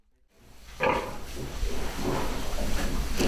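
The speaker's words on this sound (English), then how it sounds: "these Welsh breeding sows are housed in pig arks out in the fields" Welsh breeding sows and piglets grunt in an indoor farrowing pen, low snorting grunts rising out of near-silence and continuing close by over a steady barn background.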